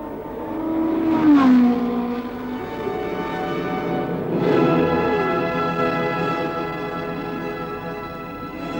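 Porsche 917 race car at the Le Mans 24-hour race, its engine roaring loud and close with a rising pass around the middle, then a steady high-revving drone that stays strong to the end, with no talk.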